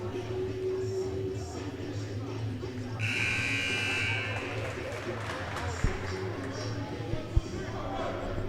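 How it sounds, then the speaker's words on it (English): A high school basketball game horn blares for about two seconds during a timeout in a boys varsity gym, standing out over steady crowd murmur and court chatter, followed by a few scattered thumps. "So the horn sounds"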